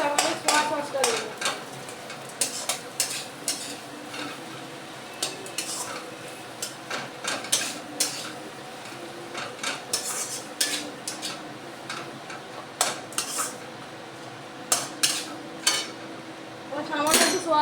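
Chilli chicken being stirred and fried in a pan, with a spatula scraping and clinking against the metal in irregular bursts over a low steady sizzle, close by and moderately loud.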